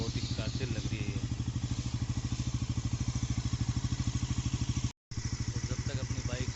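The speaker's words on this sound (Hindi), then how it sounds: "इसमें इंजन अपनी आइडल पोजीशन में ऑन रहेगा" A new Bajaj Pulsar NS400z engine idles during warm-up with a steady, rhythmic thumping exhaust pulse, close and even throughout apart from a brief dropout, as someone speaks over it.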